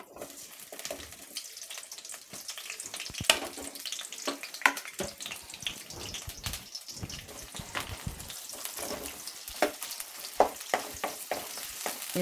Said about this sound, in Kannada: ಈರುಳ್ಳಿ ಕಟ್ಕೊಂಡಿಗೆ ಚೆನ್ನಾಗಿ ಎಣ್ಣೆಯಲ್ಲಿ ಫ್ರೈ ಮಾಡ್ಕೋಬೇಕು ಈರುಳ್ಳಿನ.